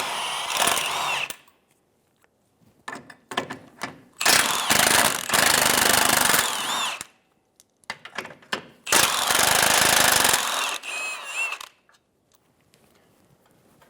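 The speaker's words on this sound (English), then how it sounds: "Using a 17mm socket, we'll remove the nuts." A power impact tool with a 17mm socket zips off transmission mount nuts on a 2007-2011 Toyota Camry in loud, close rattling bursts separated by short pauses and small clinks.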